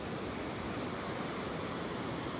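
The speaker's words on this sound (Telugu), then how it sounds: "అంతేకాకుండా ఇక ఈ అలలు" Waves on the Godavari river near the Konaseema coast, a continuous broadband wash of water with wind rushing over the microphone, steady and fairly faint throughout.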